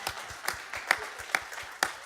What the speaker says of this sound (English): I really want you to give a loud round of applause to yourselves.